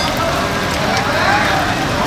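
Rain falls steadily during an amateur football match, a dense, loud hiss with no break across the whole moment.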